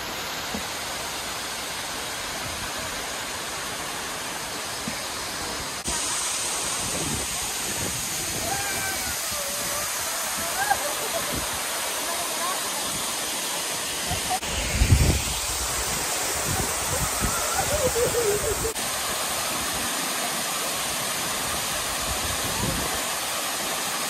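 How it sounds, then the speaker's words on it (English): A loud, continuous roar of a waterfall fills the scene, steady and close, with occasional faint voices and rustling mixed underneath. "the waterfall is so loud"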